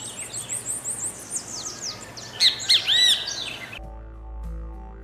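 An Australian kookaburra gives its laughing call, a run of rising and falling cackles that build into a louder burst before cutting off into near silence.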